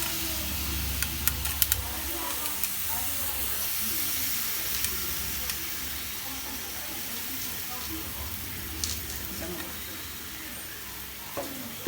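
Chopped fruits for homemade jam hit a hot pan, giving a soft, steady sizzle close by with a low rumble underneath and a few light clicks of utensils.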